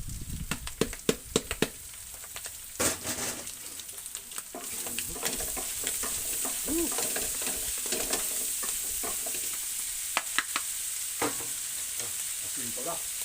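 Bicol Express stir-frying in a pan with chili just added, a steady close sizzle under repeated scraping and clattering stir strokes, busiest early on, then a continuous frying hiss.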